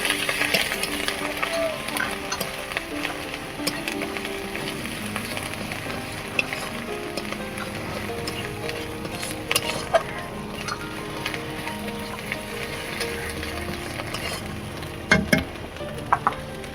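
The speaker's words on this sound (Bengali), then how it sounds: "লঙ্কা গুঁড়ো হলুদ গুঁড়ো দিয়ে মশলাটাকে ভালো করে ভেজে নেব" Ginger paste, chilli powder and turmeric powder masala frying in a pan, a steady close sizzle with intermittent stirring scrapes and small clinks throughout.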